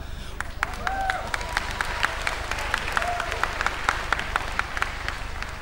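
Steady audience applause at a KVN comedy stage performance in Lviv, a dense, continuous wash of many hands clapping with crisp individual claps standing out, with some crowd voices mixed in throughout.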